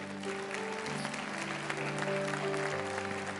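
Sustained applause from a church congregation during a sermon, steady and full, with a soft musical tone droning underneath.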